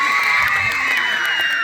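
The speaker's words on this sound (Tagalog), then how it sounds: "Wala po bang masigabong palakpakan at hiyawan dyan?" A crowd at a Miss Gay pageant cheers and shouts with whoops and high-pitched yells, a dense, steady roar of voices throughout.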